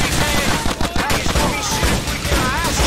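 Loud, close gunfire in GTA 4's Ballad of Gay Tony, a rapid burst of shots rattling almost without pause through the whole short stretch.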